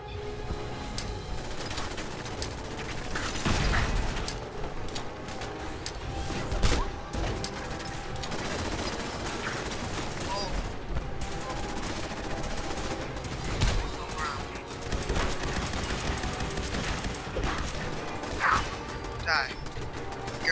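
Bursts of rapid gunfire and crashing impacts from a sentry bot in the video game Fallout 4, loud and dense across the whole stretch with repeated volleys.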